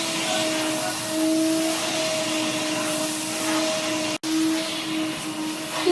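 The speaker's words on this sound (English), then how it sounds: "You can use the vacuum and it makes them much happier." Vacuum cleaner run over a horse for spring grooming, a steady close motor whine with a constant droning tone that holds for several seconds, broken by one very brief cutout near the end.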